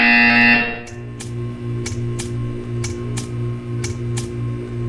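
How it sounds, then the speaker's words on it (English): Buzzer in the video game Portal 2, a loud tone that cuts off, followed by a run of short, evenly spaced electronic pulses over a low humming drone. "You will hear a buzzer."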